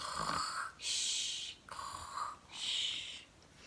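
A voice imitates a sleeping hare snoring in a told story: two long, rasping snore cycles, each a rough drawn-in breath followed by a hissing breath out, close and clear with no other sound.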